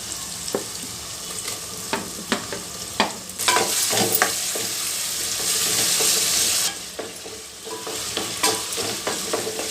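Chopped tomatoes sizzle and fry in a pan for avalakki chitranna while a spoon scrapes and stirs in irregular strokes, and a louder burst of hissing swells midway, close and without talk.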